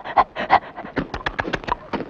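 A dog pants in quick, rhythmic bursts while snapping up thrown biscuits, close and fairly loud over an ongoing roomy background.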